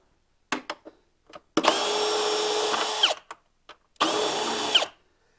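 A power tool removing a 10 mm bolt from a Ski-Doo G4 snowmobile chaincase, heard close as two loud whirring bursts, about one and a half seconds and one second long, with clicks and clanks of handling around them.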